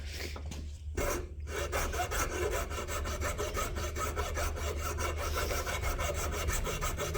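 Steady rasping strokes of a coarse file worked across a wooden mallet, continuous and close, with a brief pause near the start and then an even rhythm of scraping.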